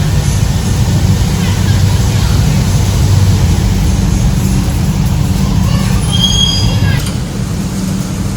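A passenger train rolls along its rails with a loud, steady low rumble heard from on board, and a brief high wheel squeal rises near the end.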